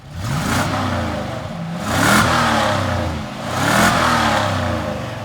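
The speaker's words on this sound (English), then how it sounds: "Rev the engine!" A 1986 Ford Thunderbird engine revs up repeatedly, three rising-and-falling surges of a mid-pitched motor, loud and close, with no talking.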